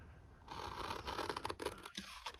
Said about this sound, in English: take our scissors and cut out